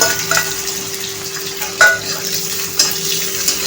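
Chopped onion and green chilies fry in hot oil for a Maharashtrian potato bhaji. A steady close sizzle runs throughout, with a few light spoon scrapes against the pan.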